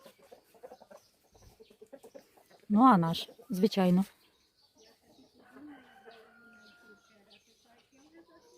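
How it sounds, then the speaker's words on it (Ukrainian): A neighbour's black rooster in a village yard, clucking softly, then letting out two loud, close crows in quick succession, with people talking around it. "Чорний це сусідський півень."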